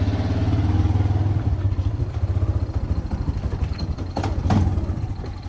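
A vehicle engine with a troubled carburetor, awaiting a rebuild kit, idles close by with a steady, throbbing, slightly uneven pulse and some mechanical clatter. A louder rev briefly lifts it near the end.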